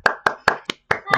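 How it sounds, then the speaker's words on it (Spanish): A few sharp, evenly spaced hand claps from one person, six close claps in quick succession, offered as applause for a young woman who read a letter about surviving COVID-19. "un aplauso para ti"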